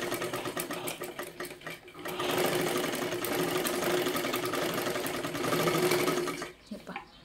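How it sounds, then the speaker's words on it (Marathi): Sewing machine stitching the lower edge of a princess-cut blouse lining, a steady close whirring run that speeds up and holds for several seconds before stopping, with brief quieter stitching at the start. "पूर्ण खालच्या बाजूला ही शिलाई मारून घ्यायची आहे"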